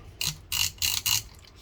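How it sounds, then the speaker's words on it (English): Four short scraping clicks from a small switch on a Kenwood KR-3200 stereo receiver being slid back and forth after contact cleaner spray, close up and quick in succession. "And after doing the spray, you have to move the switch"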